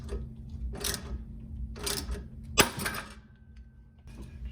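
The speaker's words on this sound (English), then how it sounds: "Using the jaw puller now to break this free." Jaw puller working a front suspension joint free on a 1994–2004 Ford Mustang, heard as three bursts of scraping, creaking metal strain, the third ending in a sharp pop, then a faint thin whine.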